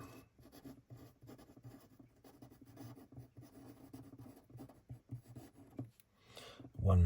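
A pencil scratches and scribbles on paper while a racing circuit is drawn, giving soft, close, irregular strokes and rubs in quick bursts, ending with a louder knock.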